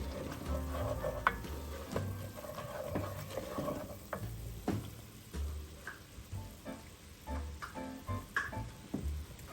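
Flour stirred into hot bacon fat in a pot while making loaded baked potato soup, heard as faint sizzling under irregular scraping and tapping strokes of the spoon, close and quiet, with no voices.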